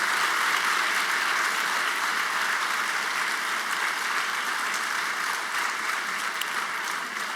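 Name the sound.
audience applause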